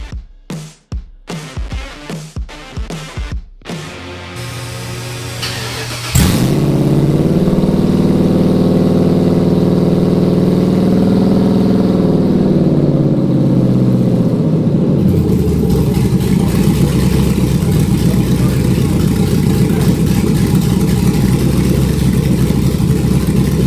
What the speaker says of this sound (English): So as you just heard, we definitely still have to address the exhaust.